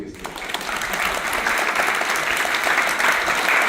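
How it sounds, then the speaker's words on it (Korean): A crowd at a Korean regional political lecture event applauds for a lawmaker, a broad wash of many hands clapping that swells after a quiet start and holds steady, with a voice briefly audible at the outset. "우리 이광희 의원님께 다시 한번 큰 박수 한번 좀 부탁드리겠습니다"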